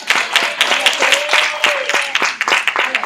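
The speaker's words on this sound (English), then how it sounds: "round of applause for our volunteer" Audience applause for a volunteer at an indoor event, a lively burst of close clapping with some voices mixed in, lasting a few seconds.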